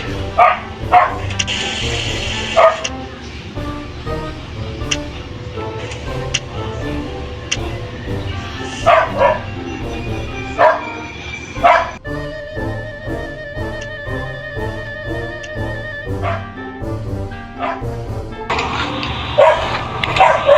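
A dog barks in the video game Mimicry, with repeated yapping and barking bursts scattered over a busy game soundtrack full of tones and effects, moderately loud throughout.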